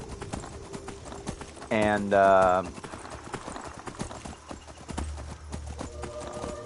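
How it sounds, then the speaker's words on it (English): A Daedric horse in Skyrim Anniversary Edition clip-clops steadily throughout, its hooves briefly overtaken by a loud, drawn-out whinny, while a person talks over the game sounds. "Gotta love the Daedric horse in the Anniversary Edition."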